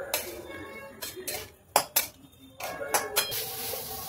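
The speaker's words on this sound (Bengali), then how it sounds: "এবার সবটা একসাথে ভালো করে মাখিয়ে নেব।" Grated coconut being mixed in a pan over a low gas flame, with repeated metal clinks and scrapes of a spoon against the pan in an uneven rhythm, close and fairly quiet.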